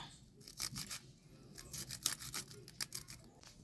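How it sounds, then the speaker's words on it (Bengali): Two green chillies are chopped for vegetable fritters, a quick series of sharp close taps and slicing scrapes in an uneven rhythm, fairly quiet and with no voices. "নেক্সট এবার দুটো লঙ্কা কুচিয়ে দেব"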